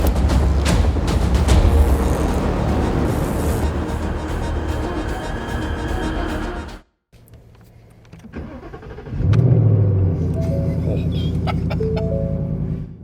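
A Ford Mustang rental car at an airport: loud engine and road roar that cuts out abruptly, then a quieter stretch before the engine fires up again and settles into a steady running hum.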